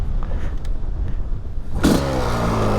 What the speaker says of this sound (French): Une grille de départ, un kick, on passe le point mort haut parce qu'on est évidemment sur une 500.